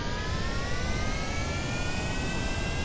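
A craft's jet engine throttling up in Kerbal Space Program, a loud, steady roar with a whine that rises slowly in pitch.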